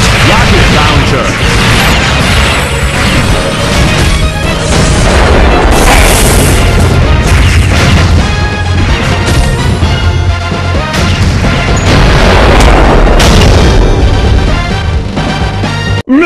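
Dense, continuous battle noise from the Metal Slug Commander video game, with repeated rocket launcher blasts and crashes layered over loud music and effects, sustained at full volume throughout.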